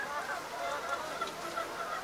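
A flock of creole and red laying hens clucks and squawks in a busy, continuous chorus, with overlapping calls close by and a voice speaking faintly beneath.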